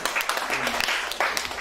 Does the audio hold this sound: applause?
yes